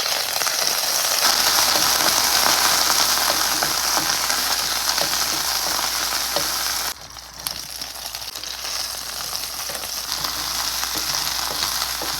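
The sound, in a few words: spice ingredients frying in oil until brown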